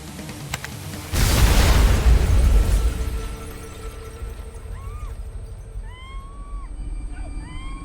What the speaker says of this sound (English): It was a massive explosion.